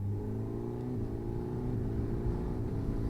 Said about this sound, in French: on a le quick shifter up and down qui marche super bien